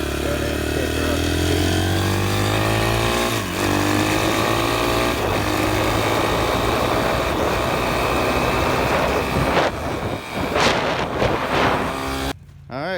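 A used dirt bike engine runs loud and close, a continuous revving drone with shifting pitch that drops away near the end.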